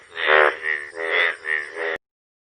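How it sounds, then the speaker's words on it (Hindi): A frog croaks in a rapid rattling series of about four close, loud bursts, then abrupt silence. "तब मेढक टर्र टर्र करता है।"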